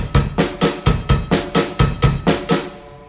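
The second pattern of a drum lesson plays on a kit of bass drum and snare, repeated over and over. Punchy, closely miked hits fall in a steady groove of about eleven strokes, with no talking.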